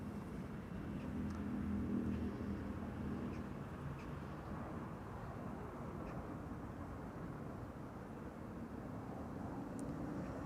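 An Air Arabia Morocco airliner departs Amsterdam Schiphol, its engines a faint, distant, steady low rumble that holds evenly throughout with no voices.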